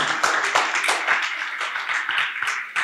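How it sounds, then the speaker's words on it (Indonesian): A church congregation applauds together, a dense, steady patter of many hands clapping at close range that holds for the whole stretch without letting up. "Kita berikan dulu tepuk tangan buat Tuhan, haleluya"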